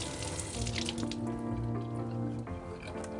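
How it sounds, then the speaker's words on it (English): Halibut rinsed under cold running water at a kitchen sink, a steady close splashing stream with a slight shift in flow near the end. "And I'm gonna rinse it over some cold water."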